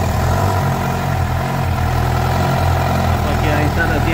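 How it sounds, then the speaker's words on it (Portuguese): A Suzuki GSXR750 motorcycle engine idling after a spark plug change for misfiring, a loud, steady close-up rumble with an even low throb and no break in level. "E agora vamos ligar a moto"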